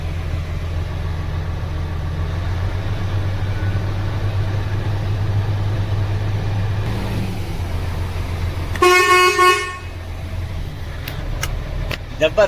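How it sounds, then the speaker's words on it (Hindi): A Mercedes-Benz Actros truck air horn blares once for about a second over a steady idling engine rumble, followed by a few brief clicks and taps. "अभी हॉर्न दबा के चेक करेंगे।"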